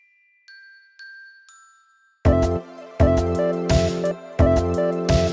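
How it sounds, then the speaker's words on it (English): Bell sounds in a music production: three soft single chimes tap one after another, then a loud layered bell-toned chord pattern strikes in a steady repeating rhythm. "Let's do some bells."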